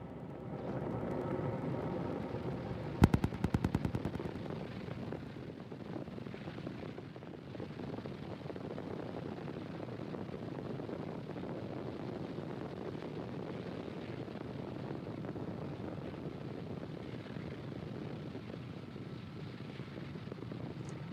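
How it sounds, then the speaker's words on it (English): A SpaceX Falcon 9 rocket launching on a Starlink mission, a steady, broad, distant roar that holds for the whole stretch, with a brief crackling burst near the start. "Falcon 9 has successfully lifted off"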